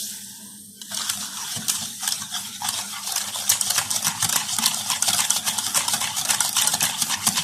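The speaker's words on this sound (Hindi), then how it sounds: "चीनी हमारी थोड़ी सी मिक्स हो जाए।" Sugar being stirred into cake batter in a bowl, steady scraping and clinking of a spoon against the sides that starts after a short quiet moment and keeps a busy, close, unbroken rhythm.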